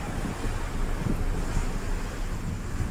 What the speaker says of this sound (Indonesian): Ini angin sangat kencang ini dari depan.